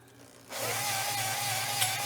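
Power tool boring the cylinders of a 351 Windsor 394 stroker engine block, starting abruptly and then running as a steady loud whirring grind with a faint high whine.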